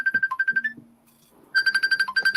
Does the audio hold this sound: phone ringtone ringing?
yes